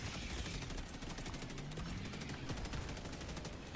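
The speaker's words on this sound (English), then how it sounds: "Alright, mortar is deployed." Mortar sentry fires amid a Helldivers 2 battle against bugs, with rapid, dense, loud bursts of booming gunfire rolling steadily and almost continuously with no pause and no talking.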